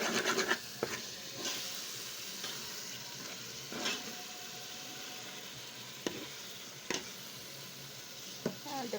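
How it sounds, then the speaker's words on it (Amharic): Tomatoes frying in a pan with potatoes nearby, a quiet continuous sizzle broken by several sharp scraping stirs of a utensil against the pan. "ያ እንደምታዩት ቲማቲሙ እየተቆላላልኝ ነው።"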